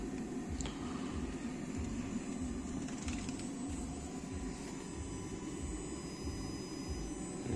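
A steady, droning fan hum with a low rumble fills the whole stretch, constant and unbroken, with no voices: a Toyota bZ4X ventilation fan running in cold weather, about 2°C, with the air conditioning on.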